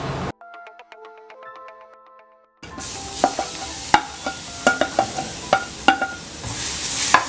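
A dry-ground paste of garlic, green chili and coriander leaves sautés with whole spices for a pulao, a close sizzle with sharp clicks and stirring scrapes that follows a brief ringtone-like electronic tune at the start.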